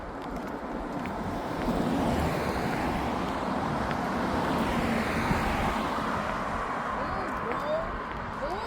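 Waves and surf wash onto a beach in Oman, heard as a continuous, fairly loud broadband rush mixed with wind, steady throughout with no clear breaks.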